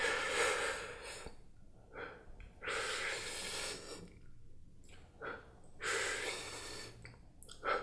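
Slow, controlled breathing exercise for calming exam anxiety, with long audible inhales and exhales in an even rhythm, three or four full breath cycles close to the microphone, quiet and alone without talk.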